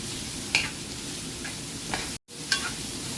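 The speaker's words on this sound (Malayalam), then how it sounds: "ഒന്ന് വഴറ്റി കൊടുക്കണം" Chicken pieces sauté in a pan for pepper chicken, giving a steady, close sizzle with a few sharper stirring scrapes of a spoon against the pan and a brief dropout near the end.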